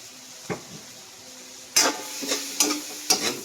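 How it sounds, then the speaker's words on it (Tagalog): Daing na bangus sisig being stirred in a hot pan, with a few sharp scraping stirs over a steady low sizzle and a faint clink early on. "Konting halo"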